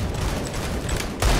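Shotgun blasts in a competitive first-person shooter match sound amid continuous gunfire noise, with a heavy, close boom standing out at the very end.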